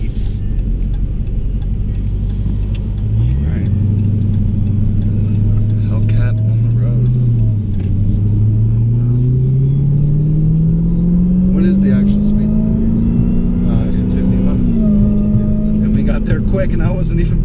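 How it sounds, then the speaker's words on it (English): Dodge Hellcat engine rising in pitch as it revs and accelerates from about three seconds in, a steady deep rumble with gear-like shifts, loud and close from inside the moving car. "I'm driving a Hellcat."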